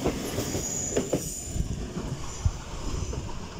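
A train rumbles through Darlington station with clattering wheels and faint squeals, a few sharp clanks standing out over the steady rolling noise.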